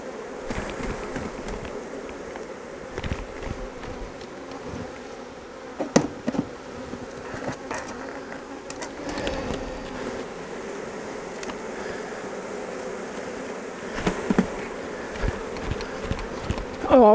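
Honeybees blown and shaken down into a split hive fill the air with a dense, continuous buzzing swarm, close and steady, broken by occasional knocks and thumps of hive equipment.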